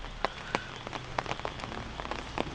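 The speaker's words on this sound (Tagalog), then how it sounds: "Hindi naman ganun kalakasan yung ulan." Light rain falls steadily on nearby surfaces, with scattered distinct drops tapping and pattering over a soft continuous hiss.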